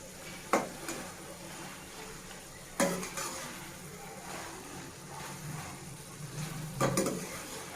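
Coriander chutney mixture stirred in a pan, soft scraping and shuffling with a few sharp clanks of the spoon against the metal, close but fairly quiet, no talking.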